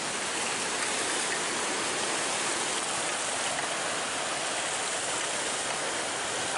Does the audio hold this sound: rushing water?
yes